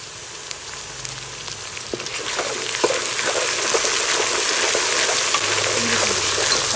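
Ginger-garlic frying with onions in a pan, a steady hissing sizzle that builds louder through the clip, with scattered light crackles and pops and no talk.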